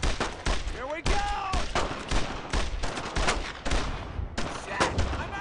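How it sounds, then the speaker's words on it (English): Suppressive gunfire in the World War II shooter Brothers in Arms: Road to Hill 30, with repeated loud rifle and machine-gun bursts and shouted voices in between. "Fire right there! Suppressive fire!"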